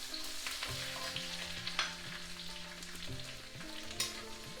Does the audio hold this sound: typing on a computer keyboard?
no